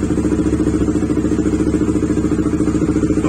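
A Honda Supra GTR 150 motorcycle fitted with an MVR1 racing ECU runs close by, its engine throbbing and blipping the throttle in a steady, loud, gritty drone with the muffler prominent.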